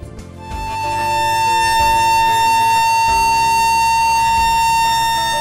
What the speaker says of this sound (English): The emergency alarm consists of a combination of sirens outside and bells inside buildings